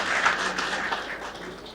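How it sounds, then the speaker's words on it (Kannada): Audience at a news event applauding, a brief burst of dense clapping that holds steady and fades slightly, heard from within the crowd. "ನಿಮ್ಮೆಲ್ಲರ ಜೋರು ಚಪ್ಪಾಳೆ ಮೂಲಕ ಅಭಿನಂದನೆಗಳನ್ನು ಸಲ್ಲಿಸ್ತೀವಿ"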